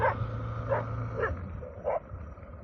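Several dogs bark repeatedly at a passing motorcycle in a rural area, four sharp yaps spaced across a steady low engine drone, fairly close and loud.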